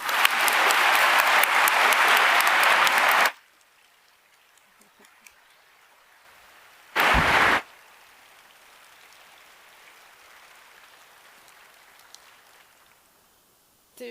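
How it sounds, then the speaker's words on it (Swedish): Audience applause at an alumni award ceremony at Uppsala University for the year's alumna, a burst of dense clapping lasting about three seconds, then quiet room with a second short burst. "Och nu, kära vänner, en stor applåd för årets alumn Gunilla Osvald."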